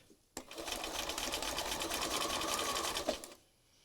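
A sewing machine runs steadily for about three seconds, stitching through a layered mixed-media collage card, close and alone with no talk.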